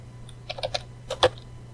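Short bursts of keystrokes on a computer keyboard while code is typed, a quick cluster of three taps followed by a pause and two sharper clicks, close and crisp over a faint electrical hum.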